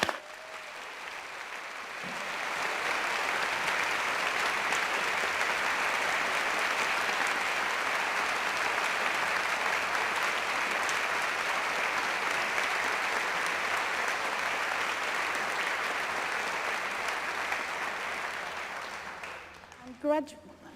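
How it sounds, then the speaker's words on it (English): A large crowd at an Oxford University degree ceremony applauds the graduates, a long even wash of clapping that swells after a couple of seconds, holds steady, then fades out. "giving a round of applause to congratulate our graduates for being here"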